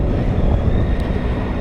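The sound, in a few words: Triumph Tiger 800 XRX motorcycle engine air induction noise while riding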